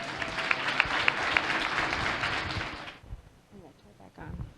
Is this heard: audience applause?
yes